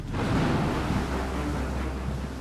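Steady broadband roar of wind and sea waves at the open sea, loud and continuous throughout with no pauses or voices.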